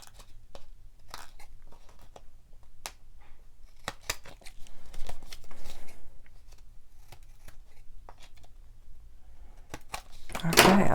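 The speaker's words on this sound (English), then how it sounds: "now what I'm going to do is just snip these babies off" Scissors snip paper pieces off a sketch card, giving a string of sharp, close clicks and crisp cuts spaced irregularly, with a louder rustle of paper at the end.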